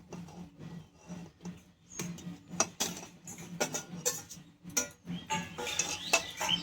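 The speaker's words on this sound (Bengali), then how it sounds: "এইবার আমি দিয়ে দেব ভেজে রাখা আলু পটল" Fried potato and pointed gourd pieces go into a pot of mutton curry, with a run of sharp clinks and scrapes from a metal spoon against the pot and soft thuds as the pieces drop in.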